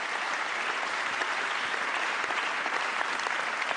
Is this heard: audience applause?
yes